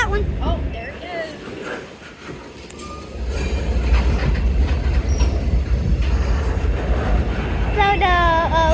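A freight train of flatcars rolls past with a continuous low rumble and clatter of wheels on the tracks, steady and fairly loud, with faint high squeals toward the end.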